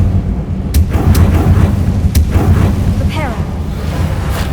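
Incendio fire spell cast in Hogwarts Legacy, a loud burst of fiery rumble with sharp cracks and whooshing over a deep continuous roar, close and dense.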